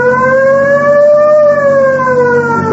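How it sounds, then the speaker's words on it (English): A loud, wailing police car siren rising slowly and then falling in pitch, steady and close, with no talking. "You want to hit the siren?"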